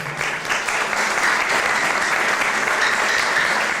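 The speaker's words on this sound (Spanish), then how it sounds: "Un aplauso para ella, por favor." A seated audience at a UFO talk gives journalist Lourdes Gómez sustained, even applause, a dense wash of clapping from start to finish.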